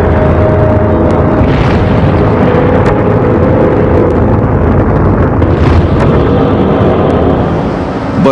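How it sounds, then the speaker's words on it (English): Rushed Vanguard rocket launch attempt answering Sputnik, a loud continuous roar and rumble lasting throughout with booming bursts, close and dominant, no voices. "America's answer to Sputnik was this rushed launch of a Vanguard rocket"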